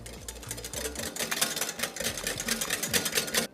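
Eggs and mustard are whisked briskly in a bowl for French-style mayonnaise, making rapid rhythmic clicking and scraping strokes, close and fairly quiet, with no talk.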